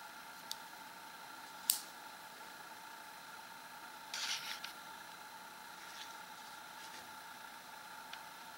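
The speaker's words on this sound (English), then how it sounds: "Here's a look at the clasp here. You can see how this opens and closes." The clasp on an Olight PL-MINI Valkyrie 400-lumen weapon light gives a single sharp click, and a few seconds later a brief rattling click, both faint over a quiet hiss.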